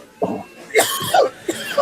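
Loud, close coughing in a short burst of three or four wet hacks in quick succession, each sharp onset fading quickly.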